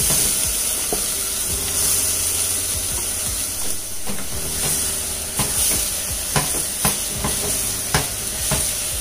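Cabbage with masala frying in a clay pot, a steady soft sizzle and hiss with occasional stirring scrapes and clicks, close and fairly quiet, with no talking.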